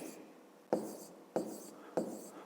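Handwriting of numbers with a pen, three or four distinct short scratchy strokes spaced evenly, close and soft, with no voices.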